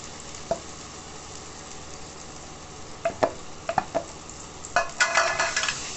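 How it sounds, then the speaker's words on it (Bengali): Mashed jackfruit seed paste stirred in a pan, a faint steady sizzle underneath, with several soft scraping strokes of the spoon that grow busier toward the end. "এবার ভালো করে নাড়ব"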